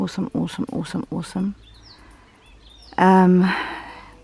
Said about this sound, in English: I don't know if you can hear all the birds, but it's awesome.